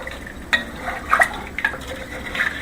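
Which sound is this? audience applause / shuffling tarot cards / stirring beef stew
stirring beef stew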